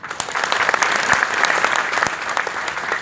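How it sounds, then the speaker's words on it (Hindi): Audience applause at a live health talk on cholesterol: steady, dense clapping from a crowd that holds at an even, fairly loud level throughout, with no voices rising above it. "तालियां हो जाए एक बार"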